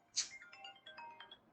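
A mobile phone ringtone chimes during a mathematics class on integration, a short bright electronic melody of several quick tones, fairly faint and heard alone without talk.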